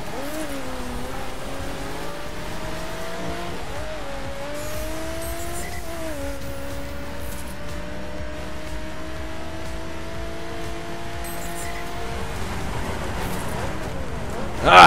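A Lotus Exige S engine in the racing game The Crew Wild Run hums steadily throughout with a few rising and falling rev sweeps, close and continuous, ending in a sudden louder burst.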